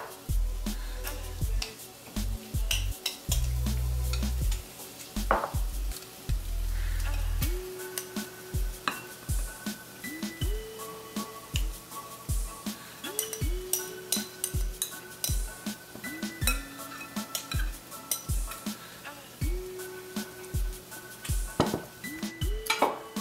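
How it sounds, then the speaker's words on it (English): A grouper fillet frying in butter sizzles steadily in a pan, with repeated utensil stirs and scrapes and clinks of cookware over the continuous crackle, without any talking. "So I'm flipping our grouper and it will be ready in just a minute."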